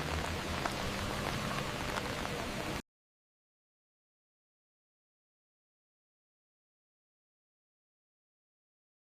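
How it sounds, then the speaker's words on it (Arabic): Cold rain falls steadily onto surfaces for under three seconds, a dense close patter of raindrops, then the sound cuts out to silence. "المطر هنا بارد."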